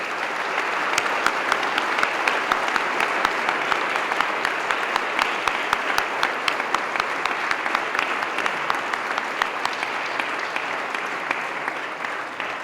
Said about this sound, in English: Would you please give a round of applause to all these donors?